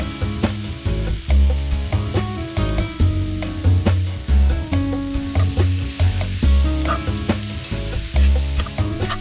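Chopped green chilies sizzle and fry in a pan with onions and minced garlic for New Mexico style green chile, with steady loud frying and repeated stirring scrapes throughout.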